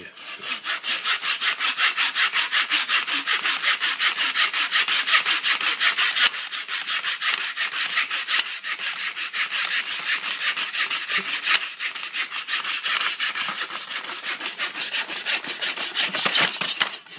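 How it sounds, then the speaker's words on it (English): A mitre saw cuts through wood at a 45-degree angle, a loud, bright, rapid rasping drone that holds steady for about seventeen seconds with brief dips in level. "if you're using a mitre saw, always make sure you're cutting at the right angle"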